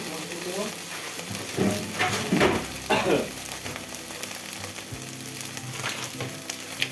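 Tofu frying in a pan gives a continuous crackling sizzle, with a few louder stirring or scraping bursts in the first few seconds before settling back to a steady fry.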